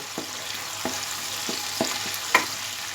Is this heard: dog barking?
no